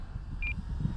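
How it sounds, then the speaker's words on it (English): A single short electronic beep from a radio-controlled model plane setup, a brief high tone heard once over steady wind noise outdoors. "I got to get rid of that beeping."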